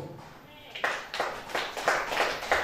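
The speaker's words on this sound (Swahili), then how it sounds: "nipigeni makofi" A church congregation claps in response to a preacher, with several loud bursts of hand clapping arriving in an uneven rhythm, building after a quieter start.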